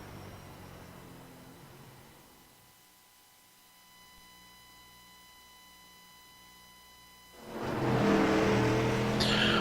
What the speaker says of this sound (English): that was a bad fast lap around Langley Speedway in the SK Modified